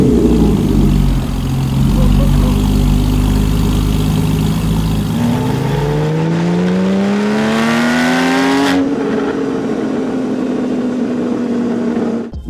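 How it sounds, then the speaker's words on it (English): Porsche 991.1 with an ECG Performance valved exhaust, loud and close: a deep rumbling engine that rises in a smooth rev sweep, cuts sharply, then settles into a steady idle. "Let's start the car and see how the new ECG Performance exhaust sounds."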